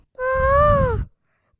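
A voice imitates a cuckoo singing, one sustained, wavering sung call that rises slightly and falls off, heard alone and close up.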